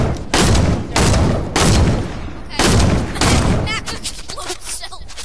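A quad launcher in a video game fires in heavy, booming blasts, four loud explosions spaced roughly half a second apart, then trailing rumble and lighter clatter near the end.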